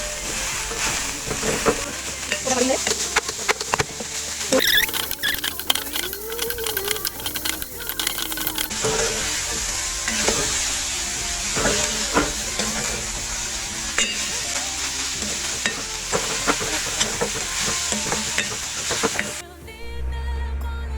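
Sugar sambol mixture of onions and chili frying and being stirred in a pan, a steady close sizzle with frequent scraping stirs throughout, continuing without talk.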